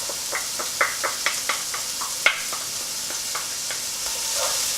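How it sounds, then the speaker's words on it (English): Garlic tossed into a hot pot of healthy biryani sizzles with a steady frying hiss, broken by repeated light scrapes and clinks of stirring, close up. "Let's put the garlic in."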